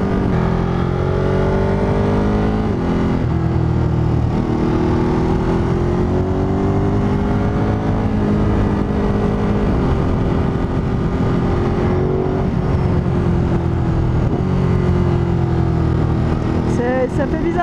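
Ducati Monster 937 engine droning loudly on the move while downshifting without the clutch, its pitch dropping and rising in steps through several gear changes, with voices talking over the engine and wind noise.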